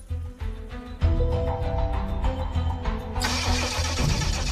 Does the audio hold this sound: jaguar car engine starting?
yes